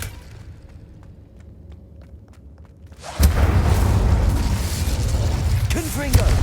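In Hogwarts Legacy, the Incendio fire spell goes off as a sudden deep whoosh and booming burst after a quiet stretch, then a sustained loud rush of flame, with a voice speaking around it.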